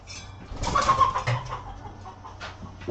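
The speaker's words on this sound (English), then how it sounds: "There's a chicken trying to get into my garage." A chicken near a garage gives a run of close, agitated clucks and squawks that rise and fall over a steady low background hum.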